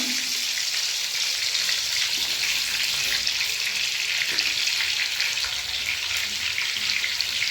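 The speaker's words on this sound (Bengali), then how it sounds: "গরম তেল হয়ে গেছে, আলুগুলো দেবো। আলুগুলো দিলাম" Potatoes frying in hot oil, a dense, even hiss of sizzling that holds steady and loud throughout, with no voices.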